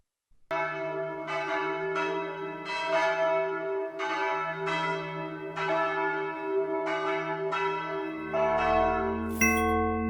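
Soft bells, meant to be little snowdrops ringing, chime in a steady bim-bam pattern of repeated strikes with long ringing tones, loud and close, with a brighter shimmering flourish near the end.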